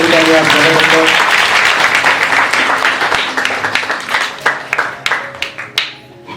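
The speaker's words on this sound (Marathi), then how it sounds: "जोरदार टाळ्या वाजवून आपल्या" Crowd applause at a school's Shiv Jayanti ceremony honouring Chhatrapati Shivaji Maharaj: dense, loud clapping from many hands that gradually thins into scattered, sharper individual claps toward the end.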